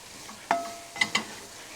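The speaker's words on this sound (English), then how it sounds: "Back of the spoon to blend it, and then get it all stirred in." A spoon scraping and tapping against a pot while stirring tomato paste over a high flame, with three sharp clinks against a soft low sizzle, no talking.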